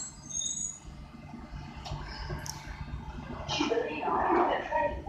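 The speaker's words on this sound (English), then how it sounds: "This is a Metropolitan line train to Aldgate." London Underground Metropolitan line train to Aldgate, faint rumbling and squealing wheels with a brief hiss, heard at a platform behind a soft announcement voice.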